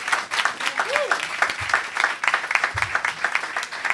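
A church congregation at EECO in Toulouse claps steadily in a dense, continuous patter that runs the whole time, with a few low thumps and murmured voices in the room.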